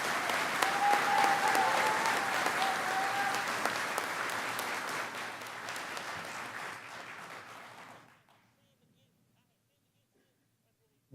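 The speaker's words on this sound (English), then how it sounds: "that deserves another round of applause for these students and this college" Sustained applause from a large audience at a 2023 Health Sciences and WTCE college graduation ceremony, dense and steady for about eight seconds before fading quickly into near silence.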